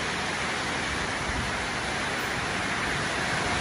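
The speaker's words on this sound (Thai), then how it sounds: "ฝนก็กำลังตกได้ที่เลยนะ" Rain falls steadily, a dense, even hiss of drops that stays loud and unbroken throughout with no voices.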